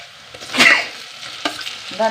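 Onions and tomatoes sauté in a pan for a soya curry, with a spoon scraping and stirring up close over a soft sizzle.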